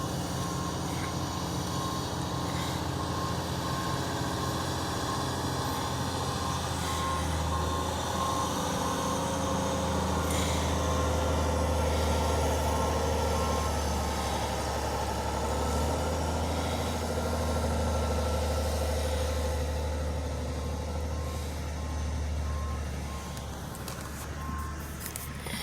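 A salt truck backs up with a regular series of reversing beeps over its rumbling diesel engine, then settles into a steady idle, heard outdoors on a street amid continuous low traffic noise.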